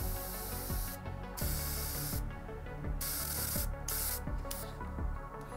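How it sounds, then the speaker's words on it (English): Airbrush spraying paint onto a Mephiston miniature figure, with short bursts and longer sustained blasts of close, airy hissing separated by brief pauses. "So I'm spraying the back of our hand here, make sure we're getting the different colors."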